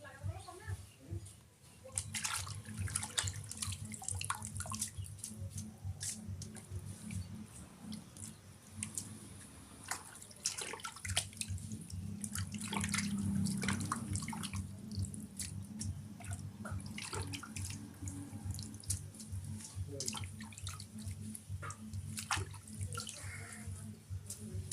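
Pumpkin leaves and a pumpkin flower are rinsed under running tap water, a continuous moderate splash and trickle with rustling, squishing handling of wet leaves throughout.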